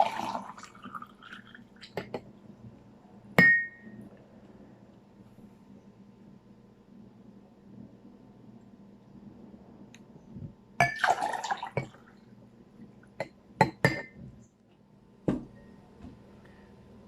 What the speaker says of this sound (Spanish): voy a utilizar otra vez los vasos de vidrio